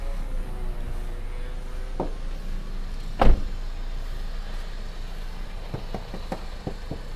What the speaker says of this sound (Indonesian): Coba kita lihat suara mesin.